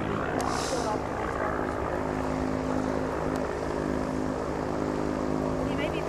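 T-6 propeller aircraft droning overhead outdoors, a steady distant engine and propeller hum continuing throughout while a person talks nearby.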